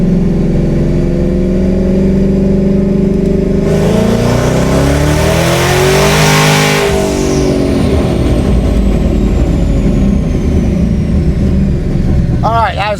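A twin-turbo S650 Ford Mustang accelerates hard in fifth gear, a loud, close, continuous engine drone rising steadily in pitch over a long pull before easing off near the end, with no talk over it.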